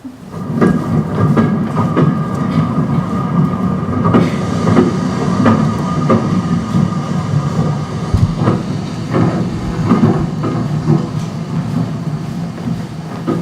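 Steady rumbling train noise played as a theatre sound effect in a studio stage production, continuous rolling clatter throughout with a few brief sharper knocks.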